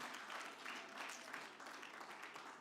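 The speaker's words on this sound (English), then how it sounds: "can we give her another round of applause" An audience at a women birders conference gives a short round of applause, steady clapping heard from within the room for a couple of seconds.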